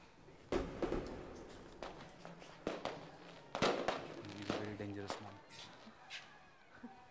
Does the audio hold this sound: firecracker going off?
yes